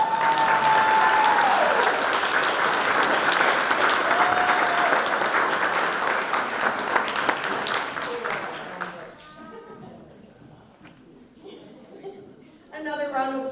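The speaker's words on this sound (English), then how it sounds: "Another round of applause for Ron." A pageant audience applauds the volunteer of the year, a full, steady burst of clapping for roughly nine seconds that fades out, followed by scattered talk and a brief rise of clapping at the end.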